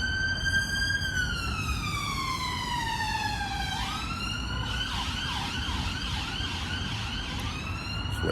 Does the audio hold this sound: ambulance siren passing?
yes